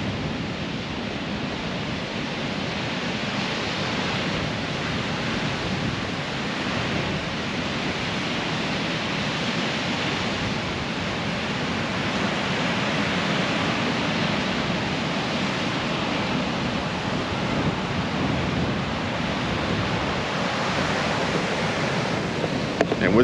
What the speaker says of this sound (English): We got some really gnarly waves today.